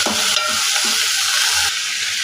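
Cauliflower fries with ginger garlic paste as a loud, dense sizzle right up close. Stirring strokes scrape through the hiss, which drops slightly near the end.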